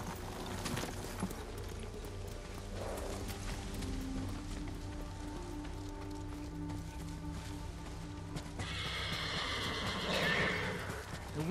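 Horses in the Ghost of Tsushima video game near a lakeside fishing camp, hooves clopping steadily under ambient game sound, then a loud whinny rings out near the end.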